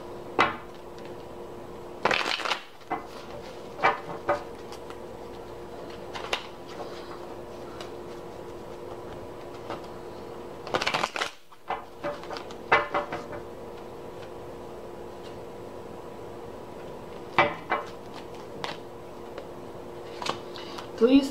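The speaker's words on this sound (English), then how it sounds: "Let's straighten some of these cards out." Tarot cards handled and straightened on a table, scattered soft taps and shuffling clicks with a few sharper knocks over a long stretch, quiet and intermittent.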